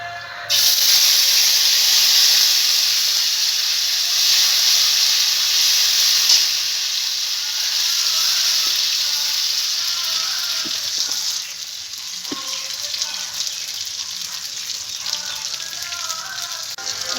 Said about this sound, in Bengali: এবার যে মশলাটা আমি পেস্ট করে নিয়েছি, আদা, কাঁচা লঙ্কা, জিরে, ওটা দিয়ে দেবো